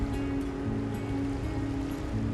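Continuous rushing water and surf churn close by, a dense steady wash of ocean waves around a small boat with no voices.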